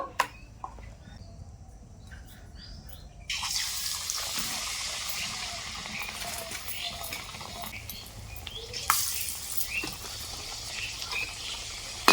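Ash gourd chop fritters in hot oil: a few quiet clinks open the sequence, then a bright, steady sizzle erupts as the fritters hit the oil and carries on. It swells again as oil is spooned over them.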